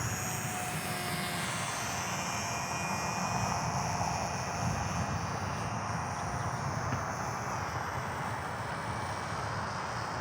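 A JJRC W01 beginner RC plane's electric motor whines steadily and loudly while it taxis, a continuous close buzz with no break throughout.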